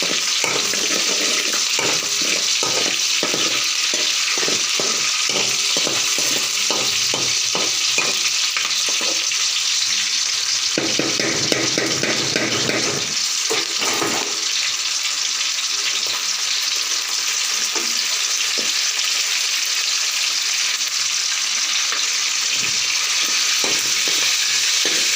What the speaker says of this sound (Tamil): கருவேப்பிலை பச்சை மிளகா நல்லா வறுபட்டதுக்கப்புறம் புதினா போட்டு ஆட் பண்ணிக்கலாம்.